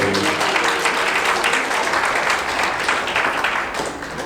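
Wedding guests at a convention-centre ceremony applaud the bride's father, a dense, steady round of clapping that fills the room and tapers slightly near the end.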